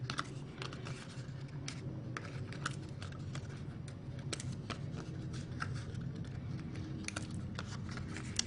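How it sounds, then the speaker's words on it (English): Paper pieces are torn off one after another for a holiday slider box, a quick series of close, crisp rips and soft rustles running steadily throughout, with no talking. "we just go ahead and tear these all off"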